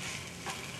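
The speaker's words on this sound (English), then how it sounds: "I'm gonna saute it with the garlic and a little bacon grease" Garlic and okra sautéing in bacon grease, a steady close, bright sizzle with a brief stirring swell partway through.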